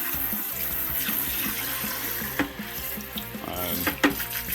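Tap water spraying hard from a hose onto an Aqueon canister filter during cleaning, a steady close hiss and splatter with brief louder bursts as the spray shifts, no voices.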